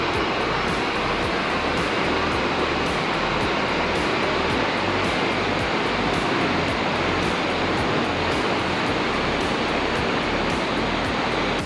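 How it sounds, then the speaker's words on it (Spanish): Salto del Mortiño waterfall in Isnos, Huila, roars as a loud, steady broadband rush of falling water, continuous and close throughout with no talking. "Se alcanza a percibir perfectamente el salto del Mortiño"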